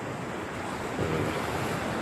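Steady roar of ocean surf with waves washing in at Harihareshwar beach, a slight swell near the middle, wind hiss throughout and no voices.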